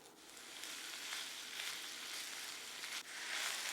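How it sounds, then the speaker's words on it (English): Onion sautéing in sesame oil in a pan over medium-high heat, a steady bright sizzle with a faint stir or clink near the end, close and unbroken. "I'm gonna saute for a few minutes over medium-high heat"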